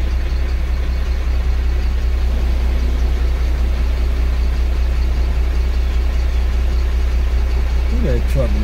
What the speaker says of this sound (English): Look at that truck loud.